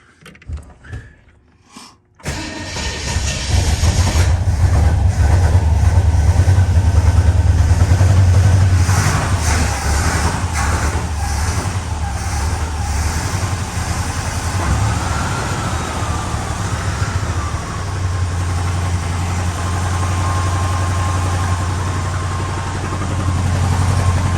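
A 1935 Plymouth car engine fitted with a new carburetor cranks and catches, then runs at a steady, loud idle with a low throbbing rumble in an enclosed space, with no talking.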